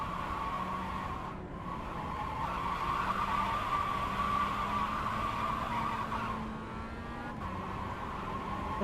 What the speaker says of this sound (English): A little bit of oversteer there.